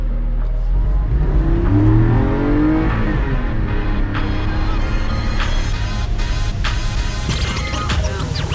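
A Porsche driving off from an automotive customization shop, its engine note rising and shifting as it accelerates, loud and close, with some road and wind noise building toward the end.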